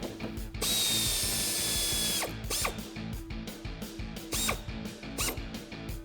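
A power tool runs in one steady burst for about a second and a half, followed by short ratcheting zips, as a bolt is driven tight inside the wheel-well liner of a 2019-2022 RAM 1500 ahead of mounting a fender flare.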